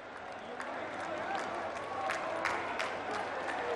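A crowd applauds steadily to welcome the Prime Minister at a university foundation event in Aligarh, a dense, continuous patter of clapping with some cheering, moderately close and filling the whole moment.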